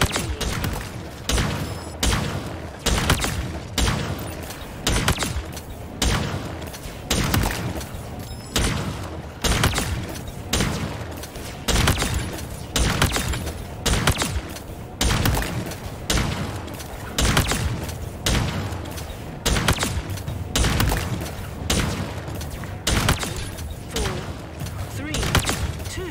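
The Heat Wave weapon fires repeatedly on a video game shooting range, with punchy blasts landing at a steady rhythm roughly every second. The shots come loud and close over a long stretch.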